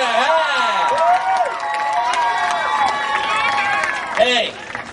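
Crowd at a Miami Seaquarium diving show cheering and clapping, a steady wash of applause and shouts with whistles, while someone talks over a loudspeaker throughout.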